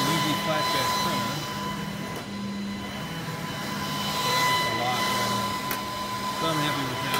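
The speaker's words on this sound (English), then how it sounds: "And this is being printed on our UV flatbed printer." A UV flatbed printer runs while printing oversized retail window graphics, giving a steady mechanical whir and hum with a constant tonal whine that holds at an even level throughout.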